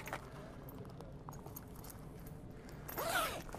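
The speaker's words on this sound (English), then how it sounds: "And the front and the sides simply attach with a zip." A zip being run along a caravan awning to attach the tent's front and side panels, a brief rising zipping sweep near the end following quiet handling rustle, fairly close and moderately loud.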